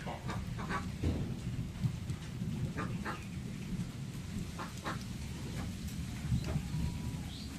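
Rumbling thunder rolls through a village rainstorm, with steady rain noise and scattered drops throughout; the low rumble stays continuous and fairly loud, with no voices.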